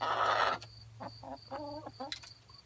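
Backyard chickens near a coop give a run of short, close clucks in quick uneven bursts after a brief hiss of noise, with a steady low hum underneath.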